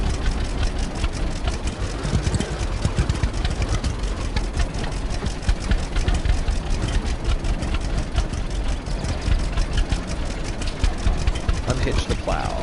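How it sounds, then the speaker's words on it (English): Tractor engine idling in the Farmer's Dynasty video game, a continuous low rumbling drone with a rough, rattly pulse that holds steady and loud throughout, with no talk over it. "This tractor just sounds like it's going to fall apart."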